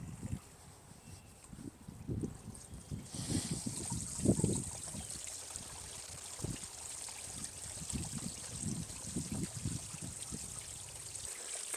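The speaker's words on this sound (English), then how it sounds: "I should turn on the waterfall for them." A small waterfall in a backyard goldfish pond switches on partway through, a steady splashing hiss of falling water that continues alongside occasional low thumps and handling noises nearby.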